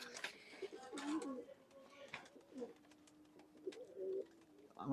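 Pigeons, including a fluffy pet pigeon, coo in several soft, low, rolling calls nearby. Someone talks quietly throughout, and there is faint background noise.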